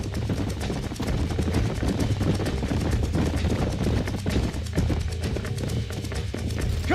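Horses galloping in a video game, a fast, dense drumming of hooves that runs steadily throughout, with a faint voice now and then.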